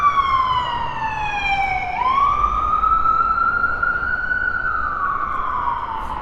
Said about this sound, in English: Hold on, we'll let this ambulance pass.